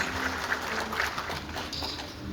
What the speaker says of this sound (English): I think he and the entire band deserve a huge round of applause.